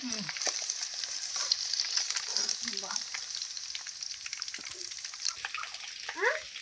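Flour-coated chicken pieces for chilli chicken fry in hot oil, half-cooked when the cooking gas runs out, giving a steady close sizzle with occasional stirring clatter and faint voices in the background.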